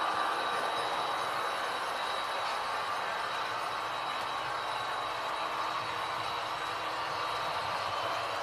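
A train rolls along the rails with a steady, loud, broadband roar that holds unchanged throughout, a thin high whine running through it and no clear clacks or voices.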